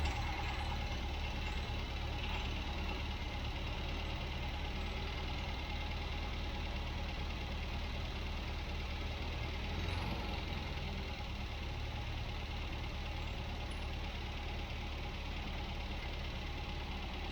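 A 1967 MGB engine idling steadily while its carburettor idle is adjusted, a close, even mechanical hum with a faint rattle that holds constant throughout, no voices present.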